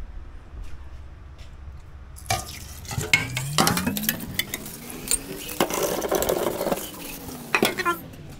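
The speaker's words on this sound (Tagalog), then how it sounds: "Hugasan tong kaldero." A cooking pot being washed at a kitchen sink before pasta carbonara: metal clanks, scraping and sloshing sounds up close, with a rising whirl-like tone from the swirling pot partway through, all without speech.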